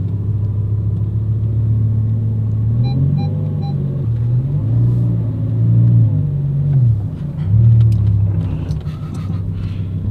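A car engine reverses out of a spot, giving a steady low rumble close by that rises and falls in pitch as it is revved through several short surges, with no talk.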